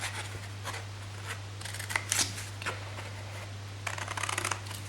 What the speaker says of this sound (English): So we'll cut off that square there, and then finally this corner as well.